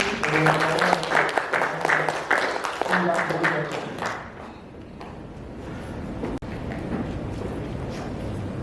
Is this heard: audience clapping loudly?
yes